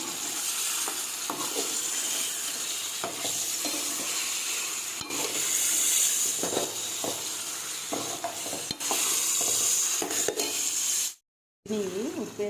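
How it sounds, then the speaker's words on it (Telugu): Korameenu fish curry stirred in a sizzling pan, a steady frying hiss with repeated scraping and knocking strokes at close range, and a brief cut to silence near the end. "ఒకసారి తిప్పేసి పెట్టుకుంటే"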